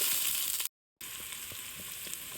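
Onions frying in hot oil for a mushroom curry give a steady, close hiss of sizzling that cuts out briefly into silence, then resumes at the same level.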